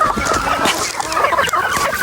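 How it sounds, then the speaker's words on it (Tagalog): A rooster and hens on a farm cluck and call loudly and continuously at close range, with overlapping clucks and no talk. "Ayan, tulad nito, may barakong manok dyan."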